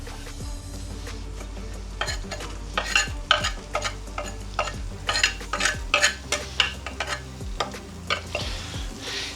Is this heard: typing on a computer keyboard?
no